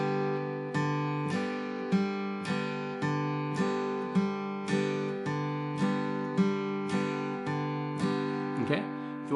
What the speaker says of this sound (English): alternate your bass note between the 3rd string open and the 4th string